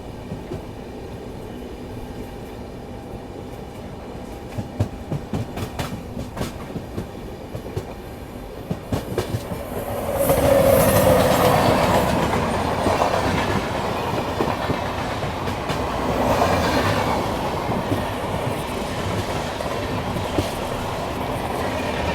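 The Tatanagar–Ernakulam Express approaches and passes close by, a loud, broad rush of wheels and carriages rising sharply after a quieter lead-in and continuing with rhythmic rail clatter.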